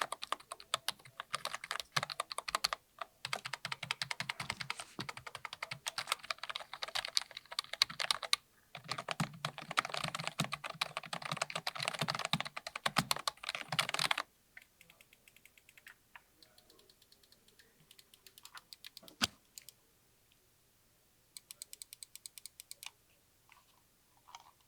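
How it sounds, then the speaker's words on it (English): Rapid, steady typing on a soft-sounding Redragon S107 budget membrane gaming keyboard, close and clear, with brief pauses, then lighter, sparser keystrokes toward the end. "let's give this keyboard a good typing test. Even though it is membrane, it still sounds pretty nice."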